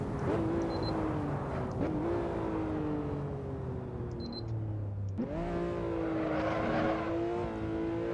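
A Porsche 911 Turbo S in the Assetto Corsa racing game drones at steady high revs on an out lap, the engine note gliding down gradually, then jumping back up with a sharp shift and climbing again; no voices.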